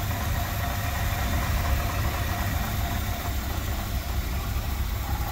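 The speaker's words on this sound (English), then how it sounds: "Really nice sounding engine in it." A 1964 Ford Galaxie 500 Convertible engine idles steadily at moderate volume, a continuous low rumble with no breaks and no talking.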